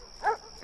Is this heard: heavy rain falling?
no